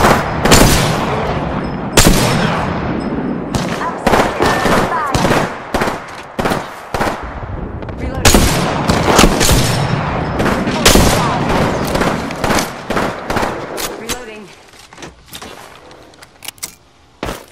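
Gunfire in the Apex Legends video game: rapid bursts of loud, close shots repeating in clusters, with mechanical clicks and handling noises between volleys, tapering off near the end.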